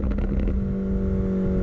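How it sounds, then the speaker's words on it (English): Mini John Cooper Works Challenge, a 2017 hot hatch, its engine running loud and steady with a low droning tone and a slight rise, close by and with no talk. "This is the Mini John Cooper Works Challenge"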